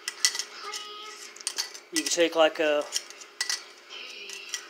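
Metal clinks and clatters as a camping stove pot support is handled and locked onto the burner, a short burst of ringing metallic knocks in the middle, with someone talking before and after.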